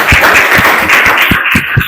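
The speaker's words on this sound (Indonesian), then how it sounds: "Beri tepuk tangan untuk kita semua." Applause from a group of students in a classroom during a guidance counselling lesson, a steady run of overlapping claps of moderate loudness lasting about two seconds, with no voices on top.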